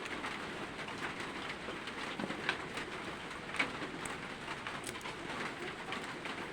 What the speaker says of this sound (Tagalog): Sige na mag-ulan dol.